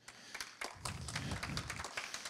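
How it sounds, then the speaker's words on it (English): An audience at a conference talk on DataFrame interoperability bursts into applause, a dense patter of many hands clapping that swells quickly and carries on steadily for a couple of seconds. "Round of applause, and I've not even started."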